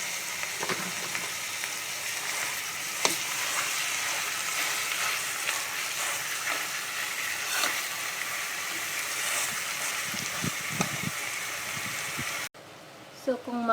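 Onions and minced pork frying in a pan, a steady close sizzle and hiss with occasional stirring scrapes, running under a speaking voice before stopping abruptly near the end.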